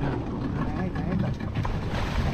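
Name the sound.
boat engine running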